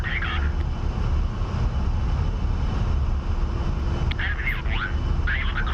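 In the DCS flight simulator, the twin jet engines of a heavily loaded A-10A roar during takeoff, a loud, steady, continuous drone with brief radio-like chirps layered over it.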